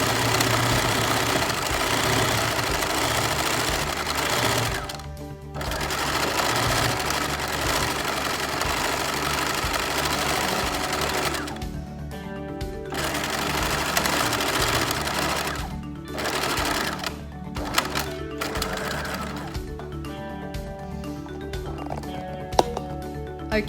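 Domestic sewing machine running steadily for machine embroidery on a fabric textile vessel, a continuous close mechanical whirring hum with brief pauses and restarts as the stitching stops and resumes.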